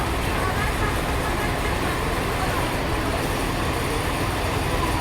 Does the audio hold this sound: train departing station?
yes